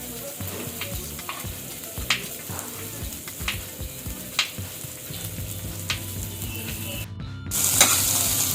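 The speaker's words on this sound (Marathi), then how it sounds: "आणि कांदा चांगला लालसर कलर होईपर्यंत आपण परतून घेऊया." Chopped onion with a pinch of asafoetida sizzles in oil in a pan while being stirred, a steady crackling fry broken by irregular scraping strokes of a spoon, close and fairly loud with no talk.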